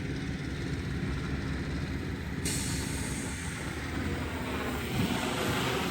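A Yuneec Q500+ drone flies at full throttle in rabbit mode, giving a constant droning whir of rotors at moderate distance that holds steady throughout with no talking.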